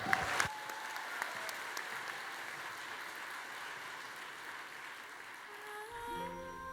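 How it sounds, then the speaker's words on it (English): Audience applause at the AVCon 2014 Madman National Cosplay Competition, sustained clapping from a large crowd in a hall that fades at the end as music begins. "A round of applause, ladies and gentlemen."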